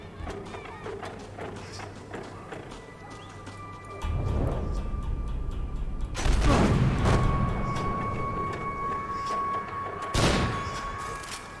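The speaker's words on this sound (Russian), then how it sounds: "Всего 2 выстрела." Gunfire in the video game Max Payne 3: a few sharp, loud shots with booming tails, spaced several seconds apart over a low, quiet game background.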